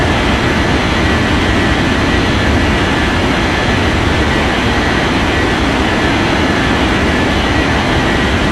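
Airliner taking off in an air traffic control game, a loud steady jet engine roar holding at constant strength with no break.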